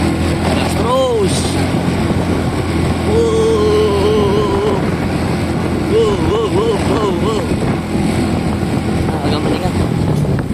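A touring motorcycle engine pulls uphill in second gear on a climbing road, a loud, steady close drone whose pitch rises and falls with the throttle while a rider talks over it.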